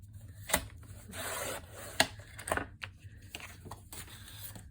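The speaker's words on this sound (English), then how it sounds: "And while I have my cutter out, I'm going to cut the inner label." A paper cutter slices an inner label for a faux metal tag craft project, giving a few close, quiet scraping and rubbing strokes with sharp clicks between them and no talking.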